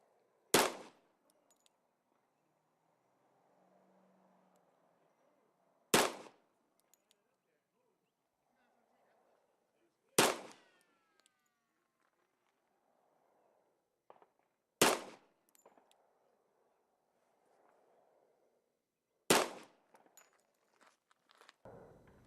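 A Colt Gunsite 1911 pistol firing plated 230-grain .45 ACP reloads outdoors: five loud, sharp single shots spaced about five seconds apart, with quiet pauses and faint movement between them.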